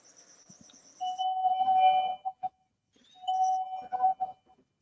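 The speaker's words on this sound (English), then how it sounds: "Not the doorbell." A doorbell chimes twice, with a pause between rings, its tones clear but moderately quiet in an otherwise still room.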